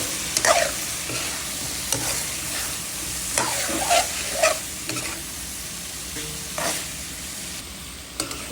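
Ridge gourd sautéing with coriander and cumin in a pan, a constant sizzle broken by repeated spatula scrapes and stirring knocks at irregular intervals, close up with no voices.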